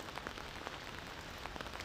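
Steady rain falling in a desert, an even, close patter of drops with scattered brighter taps spread across the whole stretch, no voices over it.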